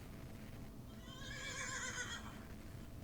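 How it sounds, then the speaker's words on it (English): A horse whinnies once, a wavering, high neigh rising over a low background rumble, fairly faint and without speech. "there is a horse in the kitchen"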